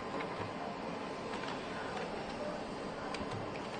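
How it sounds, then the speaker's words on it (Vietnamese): An older Canon 215 multifunction printer making a photocopy, giving a soft, steady mechanical whir with faint periodic ticks and clicks from the feed, heard alone at low level. "Đấy, đây mình đang photo một tờ cho các bạn nhìn."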